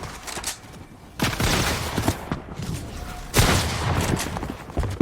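Gunfire in the Fortnite video game's Reload mode: two loud, sustained bursts of rapid shots close up, separated by a quieter stretch of fainter crackling.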